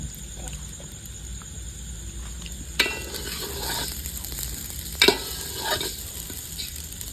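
Rice sizzles steadily as it fries in a pan with salt and turmeric for village-style Basanti pulao, with two sharper scrapes of stirring.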